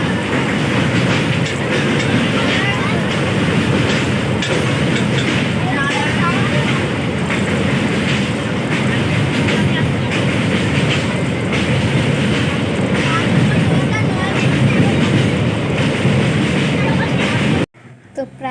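A passenger train runs steadily, heard from inside a carriage, with a loud continuous rumble and rhythmic wheel clatter lasting until an abrupt drop near the end; no talk stands out over the noise.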